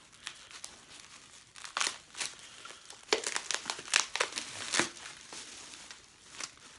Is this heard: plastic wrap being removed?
yes